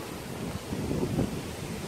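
Steady wind rushes and rumbles against the microphone for a moment, a low constant roar with a slight swell in the middle.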